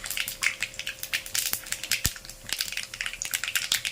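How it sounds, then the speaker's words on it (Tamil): Crushed garlic fries in hot oil with a crackling, spattering sizzle and repeated sharp pops, close and steady, no voices. "பூண்டு நல்லா பொரியட்டும்"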